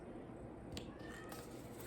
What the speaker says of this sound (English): Sorry if y'all can hear my cat.